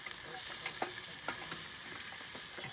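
Peas and sprinkled spices stirred in a hot frying pan, a steady sizzle under repeated scraping strokes of the utensil, close and continuous with no talking.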